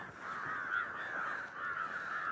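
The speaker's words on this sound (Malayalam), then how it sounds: "കുറെ കാക്കയൊക്കെ ഇത്രയും പൊക്കത്തിൽ പറക്കും" Crows caw on the Sasthampara hilltop near Trivandrum, their harsh calls faint and distant, running almost continuously in open air.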